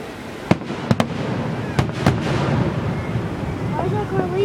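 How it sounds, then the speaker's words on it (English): Fireworks at a 4th of July show go off as several sharp, loud booms spaced a second or so apart, followed by a rolling rumble and crackle that trails off into a noisy outdoor background. "Now watch at the end for the grand finale when they set off all the fireworks"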